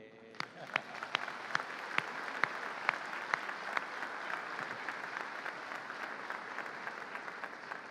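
Audience applause in a church service, a steady wash of many hands clapping with a few sharper individual claps standing out near the start, sustained at moderate level throughout.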